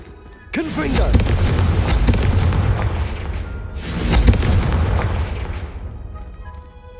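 Confringo fire-spell blasts in the Hogwarts Legacy video game: a loud, sudden explosive boom with a long rumbling decay, followed by a second heavy blast around the midpoint, both fading into a lingering roar.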